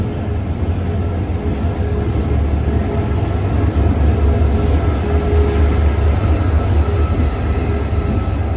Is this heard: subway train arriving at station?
yes